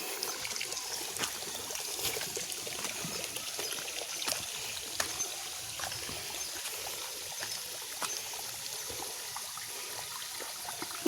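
Faint, steady trickle of water from drip irrigation around a coconut tree on a natural farm, a soft continuous wash with small droplet ticks, heard alone outdoors.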